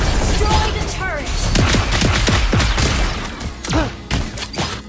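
A turret being destroyed in the Mobile Legends game, heard as a loud flurry of booming impacts and crashing hits with swooping effects over game music and character voice lines.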